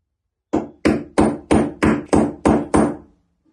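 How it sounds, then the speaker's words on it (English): Eight sharp hammer strikes on a metal punch marking ceramic tiles ahead of drilling for a grab rail install, evenly spaced and loud, each ringing briefly before the next, with no talking. "I punch some marks in the tiles to stop the drill bit from slipping when it's in the drill"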